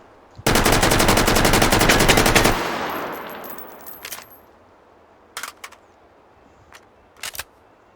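An AK5c assault rifle fires a rapid full-auto burst of about two seconds, loud and close, followed by a fading echo and a few sharp metallic clicks and clacks of handling, with no talking.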